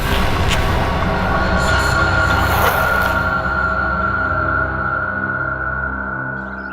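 Train at a city station platform, a steady loud rumble of railcars with a sustained metallic whine and rattle that slowly fades over several seconds, no voices.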